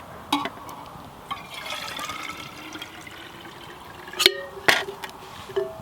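Warm water is poured from a pot back into an empty water bottle at a campfire, a gurgling trickle punctuated by several sharper splashes and knocks near the end, close and moderately loud, with no voices.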